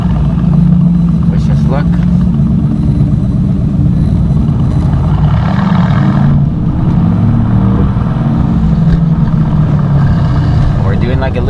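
An AMG C63s fitted with an AWE Track exhaust rumbles loudly from inside the cabin, a deep continuous engine drone that swells and eases with throttle, while occupants talk over it.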